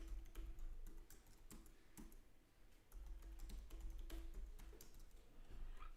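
Fingers typing a password on a computer keyboard during a Kali Linux install on VMware Workstation; quiet, close, irregular key clicks in quick clusters over a low steady room hum, no voice.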